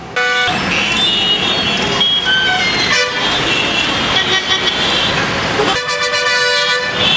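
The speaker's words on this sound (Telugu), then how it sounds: "శ్రీనివాస్ భవన్ వద్ద స్తంభించిన ట్రాఫిక్" Traffic jammed at Srinivas Bhavan in Adoni, a dense street din of engines with repeated car and truck horns honking loudly over one another, nearly continuous and close by, with some voices mixed in.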